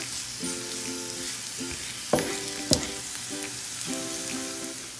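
Lentils and onions sizzle steadily in a pan over medium heat for mujadara, with a spoon stirring through them and a couple of sharp clinks against the pan around the midpoint; continuous frying hiss with no voices.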